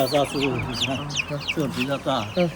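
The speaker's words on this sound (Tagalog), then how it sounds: "Pakita mo yung manok na binibili natin." Several chickens cluck and squawk close by in quick, overlapping bursts, with a little background chatter mixed in.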